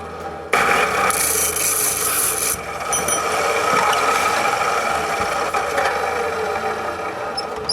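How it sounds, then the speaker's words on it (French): Half-inch steel rod being cut into short lengths with a continuous loud abrasive grinding roar, a harsher hissing stretch at the start, steady and close from beginning to end with no talking. "je coupe 10 petites longueurs de tige d'acier d'1 demi-pouce"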